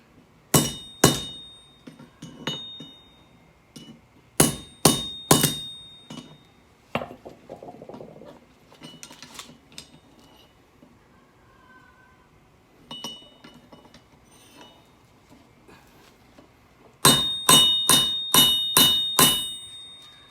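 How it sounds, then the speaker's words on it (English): Hammer blows on metal during a first attempt at forging a knife, sharp ringing strikes in quick bursts of five or six, with quieter tapping and shuffling between the volleys. "It's our first time actually trying forging."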